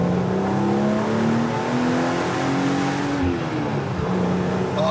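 An original BMW 3.0 CSL's inline-six revs hard while driving, engine note rising through the gears with a shift partway through, loud and close from inside the car.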